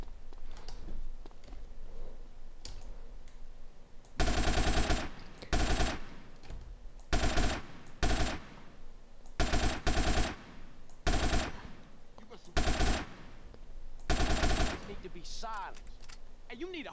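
Repeated bursts of rapid automatic gunfire in a GTA San Andreas mission, loud and close, in clusters of roughly a second each with short pauses between, over steady game background sound.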